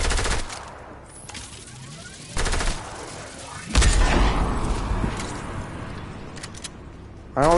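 Loud shotgun blasts in Fortnite duos, a few heavy broadband bursts spaced several seconds apart over a busy game soundscape, ending with another sharp shot.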